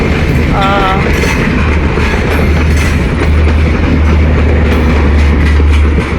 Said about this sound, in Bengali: খুবই বিশাল এই বড় ট্রেনটি ইতিমধ্যে ট্রেনটি চলে গেল